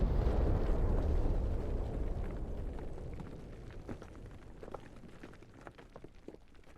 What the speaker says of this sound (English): The lead vehicle's hit a mine.